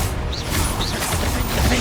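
Dense, crashing blast effects from the Confringo spell in the Hogwarts Legacy video game, loud and continuous over the whole stretch with clanking mechanical noise mixed in.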